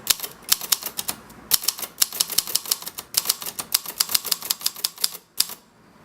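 A pink plastic-bodied Japanese-made typewriter is typed on in quick, uneven bursts of sharp, close keystrokes with short pauses between runs. No voices are heard.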